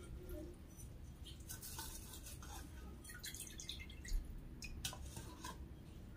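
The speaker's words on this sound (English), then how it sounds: "Go ahead and water this one." Water trickles and drips into the soil of a potted Monstera Albo Borsigiana cutting, a quiet patter of light irregular splashes and small clinks, close and faint, without speech.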